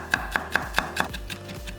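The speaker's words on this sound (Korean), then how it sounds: "통마늘 두 개는 다져서 냄비에 담고" A knife mincing two whole garlic cloves on a cutting board gives five crisp, evenly spaced chops, followed by a few softer taps, close and clear with no talking.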